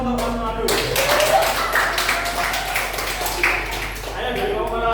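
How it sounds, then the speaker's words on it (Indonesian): Brief scattered applause from a classroom of students during a teaching practice session, a few seconds of light clapping with voices talking over it. "Aplaus untuk Mas Ronaldo."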